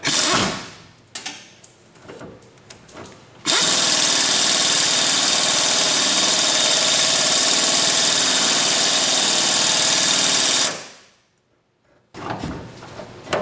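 A power tool works a nut back and forth on a seized shackle bolt, letting out a loud, steady whirring run of about seven seconds, framed by quieter clanks and handling noises before and after.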